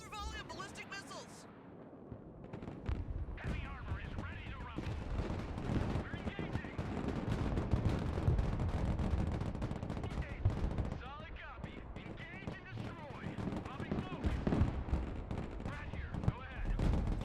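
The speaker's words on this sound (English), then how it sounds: "Another volley of ballistic missiles." A volley of ballistic missiles in the Broken Arrow war strategy game, heard as rumbling impacts and rapid gunfire-like bursts building over many seconds, moderately loud with layered explosions and chatter of weapons.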